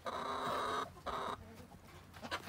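Several backyard chickens from a flock of about two dozen cluck in bursts, busy and fairly close, with short pauses between the calls and no talking.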